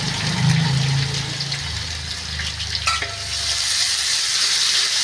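Two large onions, sliced long and thin, sautéing in a pan for a cabbage masala curry, giving a steady bright sizzle with occasional stirring scrapes and a low hum underneath.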